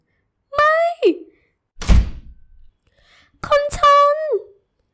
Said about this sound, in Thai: ชลกรปิดประตู และเดินไปยังห้องทำงาน